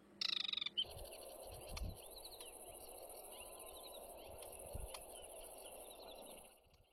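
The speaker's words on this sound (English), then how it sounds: "While playing the call and song of the aquatic warbler, a few birds quickly came to investigate." A recorded aquatic warbler call and song played back outdoors among reeds, giving repeated thin, high chattering phrases that run steadily for several seconds after a loud opening burst, with low thumps and handling noise underneath.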